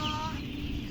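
A brief broiler chicken cluck on a broiler farm, close and fairly quiet, over a low background hum.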